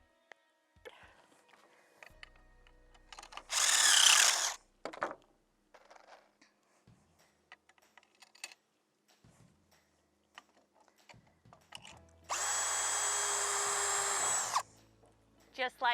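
Two loud bursts of a power drill driving screws into replacement deck boards on a dock, each lasting a couple of seconds, with quieter tool handling and clicks between them and occasional speech.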